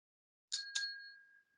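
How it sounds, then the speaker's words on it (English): A single bell struck twice in quick succession marks elapsed speaking time at a council development committee meeting, each ring leaving a clear sustained tone that fades slowly, alone in a quiet room. "After 2 minutes has elapsed, you'll hear a bell which will be rung."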